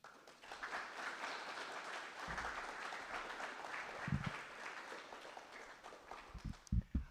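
An audience at a storytelling event claps in a faint, sustained round of applause, a dense patter of hands at some distance with a few louder thumps near the end.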